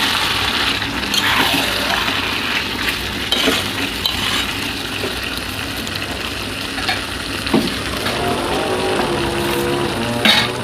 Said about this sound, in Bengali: তো যে মশলা ধোয়া জলটা দিয়ে দেবো একটু।